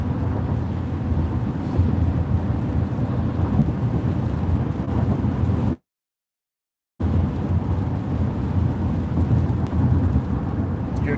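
A thunderstorm with rain makes a steady, rumbling wash of downpour and low thunder, broken once by a brief total dropout of sound midway.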